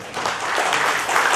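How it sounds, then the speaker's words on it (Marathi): An audience at a government officer's retirement ceremony claps in a dense, steady wash of applause that holds at a fairly even level through the brief moment, with no voices. "जोरदार टाळ्या"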